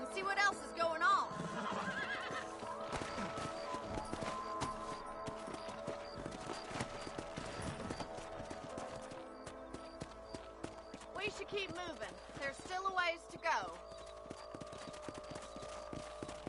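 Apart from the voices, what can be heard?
horses in the video game Red Dead Redemption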